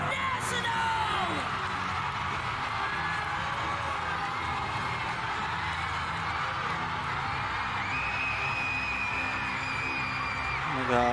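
A watch party crowd at a Mobile Legends esports event screams and cheers in a continuous loud roar, with shrill voices on top and individual yells audible through the din.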